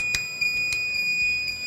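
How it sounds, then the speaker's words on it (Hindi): Warning beeper on a 12V–24V battery charger, triggered by reverse-polarity protection when the leads are connected backwards, sounding a series of sharp, high, steady electronic beeps. "उल्टी तारें लगी हैं और बीप बजना शुरू हो गई"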